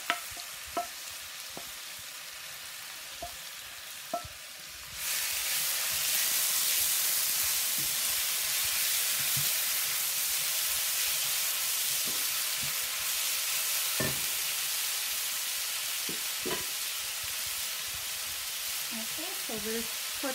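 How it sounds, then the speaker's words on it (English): Curry leaves and chili hit hot oil in a pan and break into a steady loud sizzle after a few seconds of quiet clinks, with light stirring scrapes throughout. "And then we'll add the curry leaf and the chili in there. There you go. Just heat it up till the flavor comes out"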